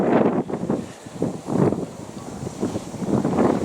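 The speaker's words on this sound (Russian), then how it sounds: "Ветрище у нас." Blustery wind buffets the microphone in loud, uneven gusts that swell and fade every second or so, a rough rushing roar outdoors on a snowy winter day with no voices.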